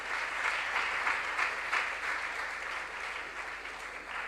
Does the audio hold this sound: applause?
yes